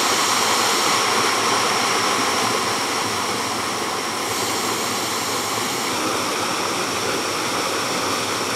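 A waterfall in a brook where carp live gives off a continuous, loud, even rush of falling water with no voices.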